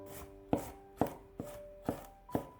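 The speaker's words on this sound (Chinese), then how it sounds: "几瓣去皮的大蒜先切成片， 再改刀切成小碎丁" A knife chops peeled garlic cloves on a cutting board, five distinct sharp thuds at a slow, even pace, close and alone.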